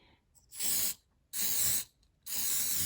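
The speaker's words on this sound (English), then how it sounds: "I should spray some hairspray on it" Hairspray sprayed from an aerosol can onto a handmade paper letter, with three close, steady hissing bursts of roughly half a second each, separated by short pauses.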